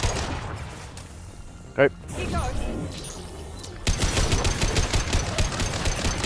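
Heavy gunfire in a Mass Effect battle: scattered impacts and a sharp burst come first, then a steady rattling stream of rapid automatic shots in the second half, with someone speaking briefly over it.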